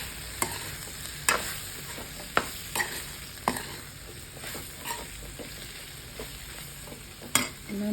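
Ground coriander and cumin powder fry in hot oil in a pan for okra and potato, with a constant soft sizzle broken by sharp scraping clicks of a spoon stirring at irregular intervals.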